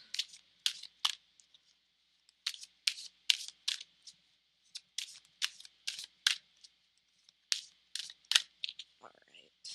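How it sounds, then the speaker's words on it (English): Tarot cards being shuffled by hand, a steady run of crisp riffling bursts close up with short pauses between them, no talk over it. "I will shuffle these tarot cards."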